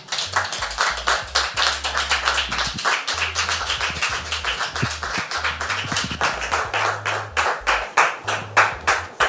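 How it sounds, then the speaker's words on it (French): An audience claps continuously to welcome a woman guest onto a French talk show set, a dense, steady wave of applause with individual hand claps audible throughout, lasting the whole stretch without talk. "je voudrais qu'on la reçoive, s'il vous plaît, sous vos applaudissements"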